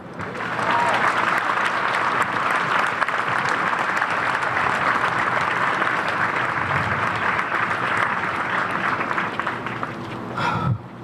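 Sustained applause from a large audience at an outdoor sculpture unveiling, steady and dense for about ten seconds before fading near the end.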